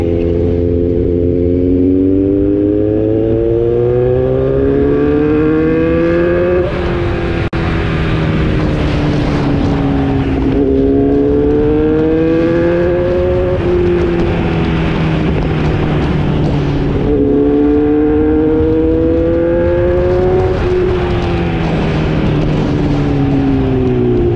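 A Kawasaki Z900 motorcycle on a ride, its engine loud and close as it climbs through repeated rising revs and gear changes, with a steady roar of wind underneath.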